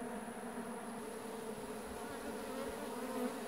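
Honey bees hum densely inside an opened hive from a recent split, a continuous, even, close buzz with no talk over it.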